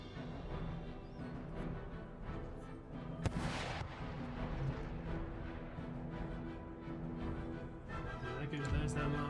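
Artillery fires on a battlefield in Empire: Total War, a single sharp distant cannon blast standing out over a continuous background din of battle, with someone talking over it.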